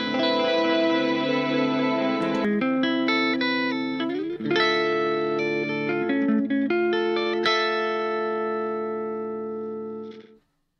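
Electric guitar played clean through an amp, a run of sustained melodic notes and chords, close and steady, with a slight leftover effect at the start, ringing out and fading near the end.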